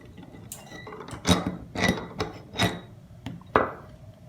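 A nut runner tool turns the right-hand cone on a bicycle hub, giving a series of sharp metallic ratcheting clicks and clunks in spaced bursts, close up, with no talking.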